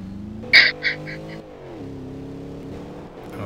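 A car in Garry's Mod drives along with a steady low engine drone that shifts pitch, broken early by a couple of sharp honk-like bursts.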